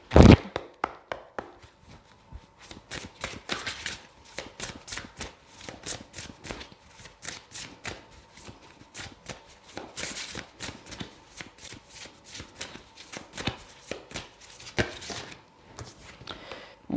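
Oracle cards are shuffled by hand, close up: rapid rhythmic riffling and slapping clusters repeat for about seventeen seconds, with an initial sharp tap and no talking.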